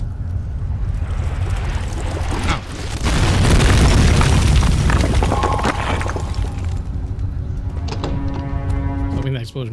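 A loud, deep explosion booms through a dark castle setting in Amnesia: The Dark Descent, swelling into a rumbling roar for a few seconds before fading into low mechanical hum and scattered clatter.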